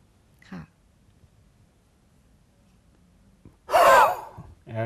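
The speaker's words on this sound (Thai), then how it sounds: "จะต้องหายใจเข้าไปลึก ๆ แล้วก็อัดลมลงไปในท้องน้อย" A forceful breath from a deep breathing exercise: a brief faint intake early, quiet pause, then a strong, loud exhale or gasp near the mic, followed by the start of another breath.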